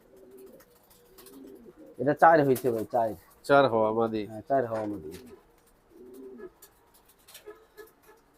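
A racing pigeon hen, a raced bird kept by a breeder, gives loud nearby cooing in a run of rhythmic phrases, with people talking before and after.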